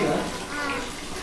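Water gushes steadily from a tap for a child's bath, a loud, close, continuous rush.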